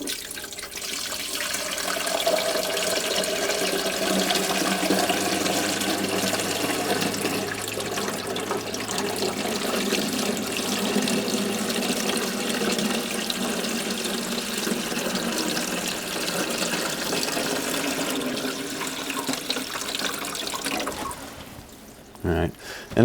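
Distilled water pours steadily into the tank of a Honeywell evaporative humidifier, a long continuous splashing stream that ends with a few plastic clunks, while a person talks.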